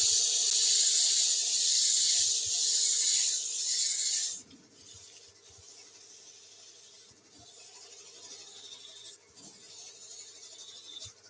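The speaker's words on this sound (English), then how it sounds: "I just turn the lathe on, sand the top of that thread away a little bit" Abrasive rasping hiss of sandpaper pressed against a spinning wooden thread on a lathe for a toadstool nutcracker, loud and steady for about four seconds before cutting off to quiet workshop hum with faint scattered bumps.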